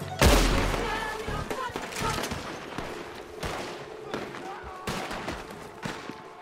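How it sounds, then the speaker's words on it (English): Bursts of gunfire ring out in Red Dead Redemption 2 roleplay, a loud opening shot followed by repeated volleys and scattered single shots, with players talking in between. "we're getting shot out already"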